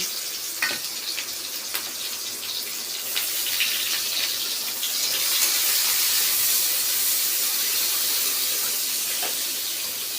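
Black cumin, dried chilli and chopped onion sizzle steadily in hot oil for a spinach-stem dish, a broad continuous hiss that swells slightly midway, with a few faint clicks and no talk.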